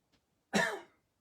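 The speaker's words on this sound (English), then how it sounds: "God, it's giving me a cough now." A single person gives a short throat clear that breaks into a cough while working with soft pastels, one brief, close burst after a faint earlier sound, then quiet.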